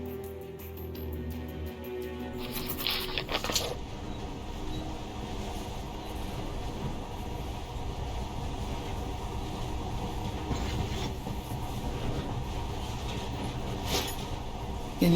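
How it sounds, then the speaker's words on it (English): Monorail train in Metro Last Light running along its track, a continuous low rolling rumble with faint rhythmic clatter and a few brief higher mechanical whines, steady and moderately close throughout. "this monorail seems magic, doesn't it?"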